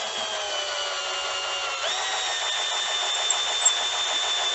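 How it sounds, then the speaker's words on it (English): A power drill with a small bit bores a hole into a wooden Charter Oak dining chair under repair, a steady high motor whine that shifts pitch midway with a faint rhythmic chatter as the bit bites, close and continuous. "So we drill this with a small bit"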